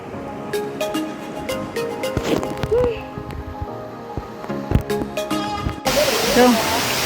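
A waterfall on a nature trail gives a steady wash of rushing water under scattered clicks, rustles and handling noise. The water grows louder and broader near the end.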